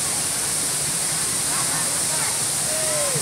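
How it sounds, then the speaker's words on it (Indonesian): Waterfall at Kuku Belantak in Kendawangan, West Kalimantan: a loud, continuous roar of falling water that fills the scene, with faint voices of people bathing nearby partly buried beneath it. "Ini air terjun yang ada di bawah."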